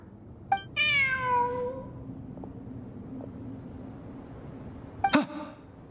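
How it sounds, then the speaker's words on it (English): A cat in a video game meows twice, a drawn-out falling meow followed later by a shorter sharp one, both clear and close over a low background hum. "Look, a cat."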